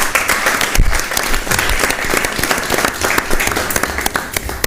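Loud, lively clapping from an audience welcoming guests at a gathering of an English teachers' association, with scattered sharper claps and faint murmurs in the crowd, sustained throughout.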